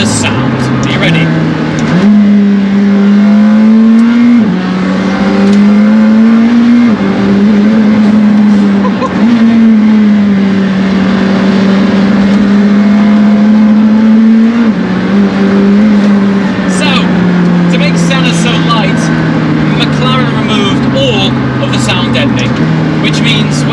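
A McLaren MSO Senna hypercar with an 800 brake horsepower engine revs loudly nearby, its pitch climbing through several gear-like steps and then easing down gradually, with people talking over it.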